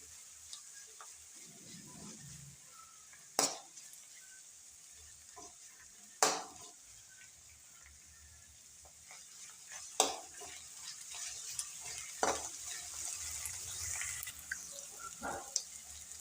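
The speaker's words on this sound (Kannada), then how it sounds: "ಈಗ ಟಮಾಟೆ ಹಣ್ಣು ಹಾಕ್ಯಂತಾನೆ ನೋಡ್ರಿ" Tomatoes frying in a pan during preparation of a North Karnataka-style avarekai (hyacinth bean) palya, with a steady soft sizzle broken by four or five sharp scraping strokes of the stirring spoon against the pan.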